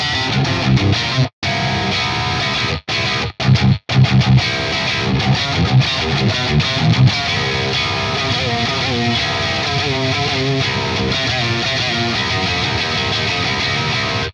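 A loud electric guitar plays a bright, slightly distorted split-coil tone through a Neural DSP Fortin Nameless amp model, with a few abrupt cutouts near the start before sustaining steadily.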